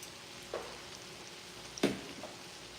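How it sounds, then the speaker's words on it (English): Cabbage sautéing in a pan gives a faint, steady sizzle broken by two brief utensil clinks or stirring scrapes, one louder than the other. No one speaks. "here we have the cabbage. That's just sauteing."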